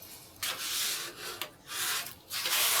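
Brush scrubbing watercolor paint on a DANIEL SMITH watercolor ground surface, a dry rubbing swish in three bursts with short pauses between, close and moderately loud with no talk.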